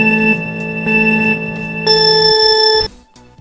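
A countdown app alarm rings loudly with a bright electronic melodic tone, repeating notes for about three seconds before cutting off, alone without talk.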